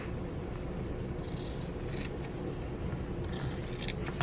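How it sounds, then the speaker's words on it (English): Scrapbook paper being trimmed along one side, heard as two short crisp bursts of cutting over a quiet room background. "So I'm just going to trim it on the side."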